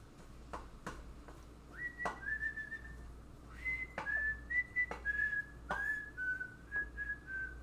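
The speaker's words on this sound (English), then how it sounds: "What's that whistle from?" A person whistles a slow tune alone, a series of sustained and gliding notes separated by brief pauses, fairly close but soft over faint room noise.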